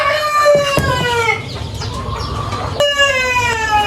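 Adult free-range village hens on a poultry farm cluck and squawk loudly and close by at feeding time, with overlapping drawn-out calls and no speech.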